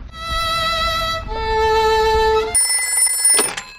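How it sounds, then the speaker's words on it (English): Cartoon telephone ringing in a Peppa Pig episode, a bright electronic ring in sustained tonal bursts that shift pitch, loud and close, ending in a short clatter. "Let's phone Dr. Hamster the vet."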